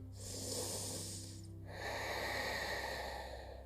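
A slow, deep inhalation during a yoga session, then a second, longer breath through the nose, both close and quiet with no talking.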